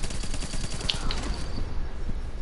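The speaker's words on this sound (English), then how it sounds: "Shotguns." Shotgun fire in the video game The Division, a dense run of rapid, loud blasts and booming reports crowding together through a short burst of combat.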